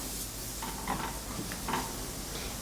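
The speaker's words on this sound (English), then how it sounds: "We start by sauteing the minced garlic with some vegetable oil." Minced garlic sautéing in vegetable oil in a pan, a steady low sizzle with a few soft scraping stirs of a utensil, close and fairly quiet, no voices.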